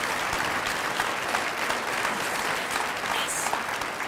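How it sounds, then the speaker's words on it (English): A room full of guests at a Girls & Women in Sports luncheon applauds, a dense, steady wash of many hands clapping at close range for the full stretch, with a few cheers mixed in. "Can we give this woman a round of applause?"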